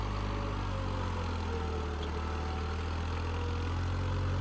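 A New Holland 3600 tractor engine running at a steady idle, a constant low throbbing drone with no change in pace or loudness and no talking.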